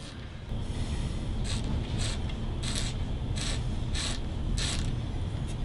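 Paint and stain being scraped off a guitar fretboard against a neck template: a series of about eight short, evenly spaced rasping strokes over a steady background hum, close and fairly loud, with no talking.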